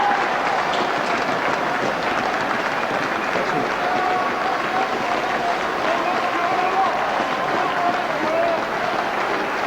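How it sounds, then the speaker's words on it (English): Crowd at a rugby league cup match between Hull KR and Keighley applauds warmly as both teams leave the field, steady dense clapping filling the whole stretch at even loudness with faint crowd murmur beneath. "The 2 sets of players then come off, warmly applauded by the crowd."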